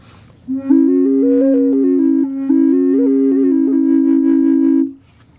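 Native American drone flute with drone and melody pipes sounding together: a steady held low note under a wandering melody that rises and falls, briefly pausing midway, close and loud with no voices.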